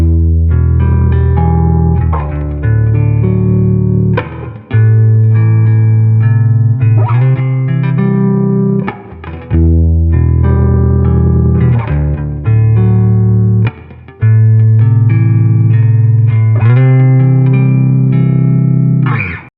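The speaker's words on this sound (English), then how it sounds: "Here's one with a strong reverb sound." A bass plays through a guitar preset on an IK Multimedia ToneX One amp sim pedal, loud sustained chords and notes soaked in strong reverb, with brief gaps between phrases.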